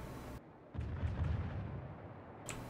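Warship guns in the World of Warships game fire in a muffled booming salvo, rumbling low and close, with a sharp report near the end.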